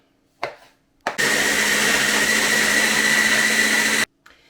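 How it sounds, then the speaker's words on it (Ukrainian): A blender chopping tomatoes whirs loudly and steadily for about three seconds after a couple of short knocks, then cuts off abruptly. "А це все буду прокручувати в блендері."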